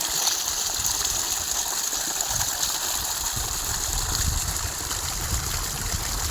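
Irrigation water gushing steadily across a farm field, a continuous broadband rushing flow that stays close and even in level throughout, with no voices over it.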